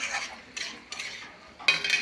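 A metal lid set onto a pan of cooking eggplant and tomato, several short clattering knocks of metal on metal, close and fairly quiet.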